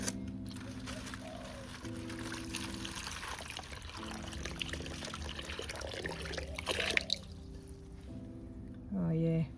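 Water pours out of a silver plate teapot into a bowl in a steady trickling stream that runs for several seconds, with a brief gurgle near the end.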